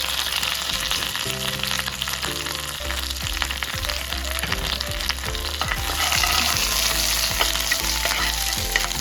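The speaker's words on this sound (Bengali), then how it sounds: "নিয়ে নিচ্ছি একটা ফ্রাইং প্যান, তার মধ্যে দিয়ে দিচ্ছি চিকেন ভাজার তেলটা 2 চামচ, দিয়ে দিচ্ছি কারি পাতা, তারপর দিয়ে দিচ্ছি 8 থেকে 10টা কুচি করে রাখা রসুন" Curry leaves and chopped garlic fry in about two spoons of oil in a pan for restaurant-style chicken 65, giving a steady, close sizzle that runs throughout with background music underneath and no talking.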